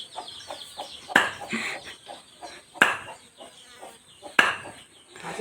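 Three sharp, loud chops of a blade cutting up a duck land a couple of seconds apart, with soft clucking and quiet background noise between them.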